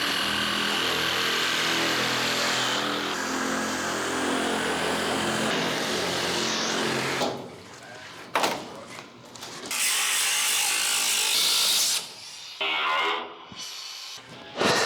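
Angle grinder with a cutting disc slicing through metal during quarter panel replacement on a 1968 Camaro, a loud continuous high whine that runs steadily, then breaks into several shorter bursts with pauses between cuts.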